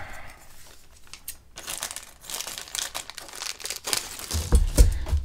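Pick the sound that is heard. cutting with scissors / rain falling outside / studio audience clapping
cutting with scissors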